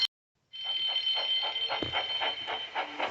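A shrill electric alarm bell rings continuously with a rapid pulsing rattle, loud and piercing after a short silence.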